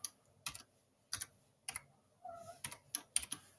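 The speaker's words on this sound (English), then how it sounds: "I can type in the equation like that" Computer keyboard typing as an equation is entered, with sparse, irregular clicks and short clustered keystrokes at close range and no speech.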